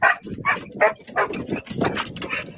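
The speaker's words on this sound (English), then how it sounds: "Is that an old yellow dog?" An old yellow dog barks and whimpers in a run of loud, close, rhythmic yelps, the calls repeating roughly every third of a second with no pause.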